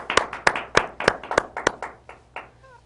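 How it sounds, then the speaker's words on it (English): A small audience at a Toastmasters club meeting applauds a speaker with about eight or nine distinct, evenly spaced claps that gradually slow and fade, heard close and clear with no talking. "Let's give her a round of applause."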